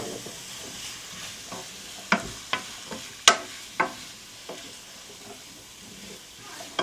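Yucca root dropped into a pan of frying curry chickpeas with turmeric and spices, a steady sizzle broken by sharp scraping clacks of a stirring spoon, several distinct knocks, close and moderately loud.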